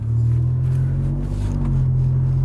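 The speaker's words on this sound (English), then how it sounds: "We're just accelerating a little bit, and it sounds pretty good." Ford F-150 pickup fitted with a Roush stainless steel 3-inch side-exit cat-back exhaust, accelerating gently, giving a deep steady low rumble heard from inside the cab, moderate rather than loud.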